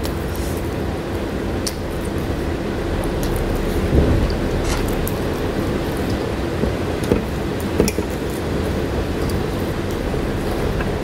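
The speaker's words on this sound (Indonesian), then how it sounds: "kawasan saya duduk ni hujan lebat" Heavy rain pours as a steady broadband wash, with a soft roll of thunder around the middle and a few faint crackles on top, and no one speaks.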